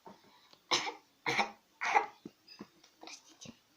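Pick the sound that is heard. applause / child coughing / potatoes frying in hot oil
child coughing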